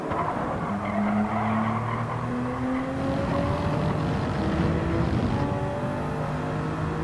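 Race car in a racing video game skidding with sustained tire squeal over a roaring engine whose pitch rises and falls, continuous and close, with no clear impact on the wall.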